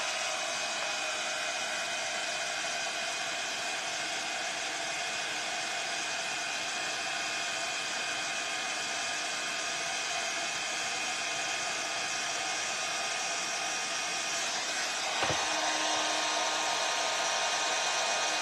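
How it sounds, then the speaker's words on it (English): A handheld heat tool blows steadily and loudly to set WoodUBend decorative trim on a decoupage craft, a continuous close, even rushing whoosh that ends with a brief click near the finish. "I'm going to get my heat tool to set it in place."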